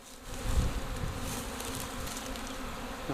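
A honey bee swarm pours into a wooden box, making a dense, continuous buzzing hum from many bees up close. It holds steady and loud for the whole stretch, with no voices.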